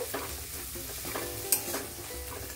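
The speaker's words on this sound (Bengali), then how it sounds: "এখন মশলাটা ভালোভাবে কষিয়ে নেব" Spice masala is stirred and fried in a pan, a steady sizzle with scraping spoon strokes across the metal, close and moderately loud, with one sharp clink partway through.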